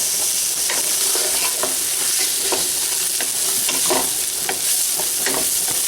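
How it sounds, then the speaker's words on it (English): Half a diced onion sizzles and crackles steadily in a hot frying pan, loud and close, with occasional stirring scrapes. "I love that sizzling sound."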